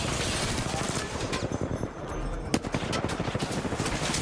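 Gunshots in a streamed video game match: rapid, continuous automatic fire under a busy, noisy mix with some talk in the background.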